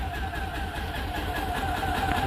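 An Isetta microcar engine idles rich with the gas valve fully open and no choke, a steady low chugging putter with a faint whine above it, close and continuous.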